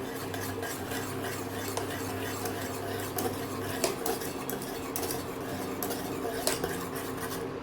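Pumpkin with turmeric and salt being stirred in a pot after a light boil, with a utensil scraping and clinking against the metal in soft, repeated strokes under a low background hum.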